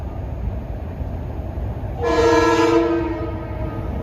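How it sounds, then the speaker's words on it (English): A Metro-North Harlem line train sounds one loud, sustained horn blast of about a second as it approaches a station platform, rising over a low rumble of rail noise that continues alone afterward. "They all sound their horns before approaching a station platform."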